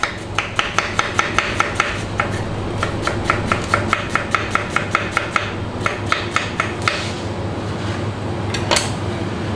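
A knife chops red onion and spring onion on a board in a home kitchen, sharp close taps coming in quick regular runs with short pauses between bursts, clear and alone.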